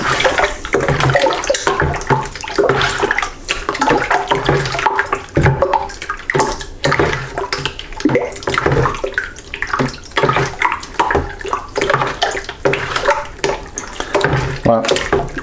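Wallpaper paste being stirred into water, a loud, continuous sloshing and churning that runs throughout with uneven swirling surges.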